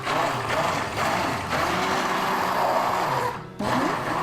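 Countertop blender whirring through a liquid soap mixture in steady pulses, the motor droning loudly and continuously with brief dips between bursts, close up with no talking.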